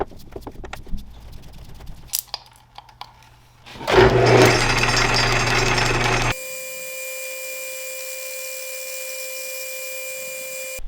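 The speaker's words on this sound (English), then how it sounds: "We're gonna try and bore that on the lathe." A lathe bores out a centred piece of stock for a homemade bench vise bending brake. A few scattered knocks give way to a loud burst of cutting noise, then a steady motor hum with a high whine.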